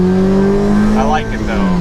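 Kraftwerks supercharged Honda S2000 CR engine under way, a loud sustained tonal whine riding over the engine drone throughout, with a brief voice in the middle.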